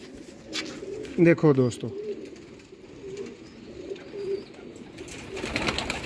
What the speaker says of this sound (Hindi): एने प्योर सियालकोटी दोस्तों चूहे कबूतर